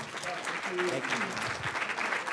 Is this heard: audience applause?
yes